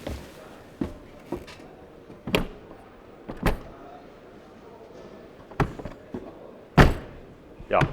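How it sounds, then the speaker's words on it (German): An Etrusco T 7400 SB motorhome door is shut repeatedly, giving a series of solid, close thuds spread through the clip, with quiet talking in between. "wenn man die Tür zumacht, ist die eben satt im Geräusch"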